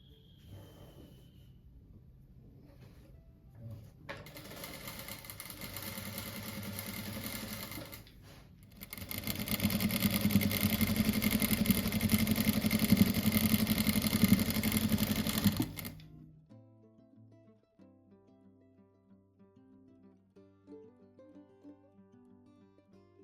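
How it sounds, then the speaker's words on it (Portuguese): A sewing machine stitches a narrow fabric strip onto a reused-fabric rug, running in a steady whirring burst, pausing briefly, then running again louder for several seconds before stopping; no talking. "Agora eu costuro uma faixinha dessa de cada lado aqui"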